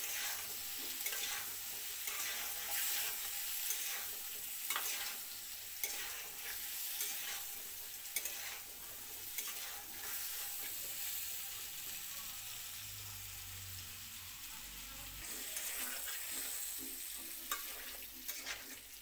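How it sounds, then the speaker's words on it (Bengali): Potato and pointed gourd pieces fry together in a pan, with a steady sizzle running throughout and repeated scraping clicks as they are stirred. "আলু পটল একসঙ্গে ভাজা করে নিলাম।"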